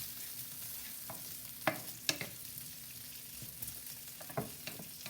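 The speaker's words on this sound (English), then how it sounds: "to help the saute and come together, I'm going to add a tablespoon of olive oil. Give it a quick little spin." Smoked pancetta sautéing in olive oil for a carbonara sauce, stirred in the pan: a low steady sizzle with a few sharp scraping clicks of the utensil, close and fairly quiet, no talking.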